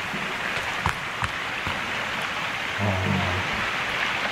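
A river flows nearby in the Sons of the Forest survival game, a continuous rushing, rain-like wash of water with a few faint knocks and a soft low hum partway through.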